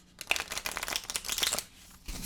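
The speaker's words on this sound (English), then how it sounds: "Just do a quick shuffle here for the purposes of demonstration." A deck of playing cards being shuffled up close, a rapid riffling flutter in quick bursts, pausing briefly before a final short riffle.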